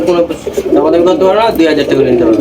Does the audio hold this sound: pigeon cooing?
yes